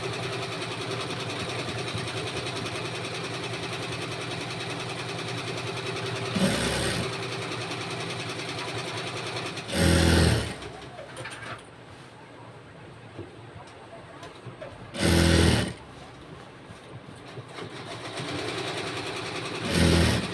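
A sewing machine stitches a school uniform pant with a continuous, even motorized whir. The drone stops briefly a few times and carries on, and it stays steady and near throughout.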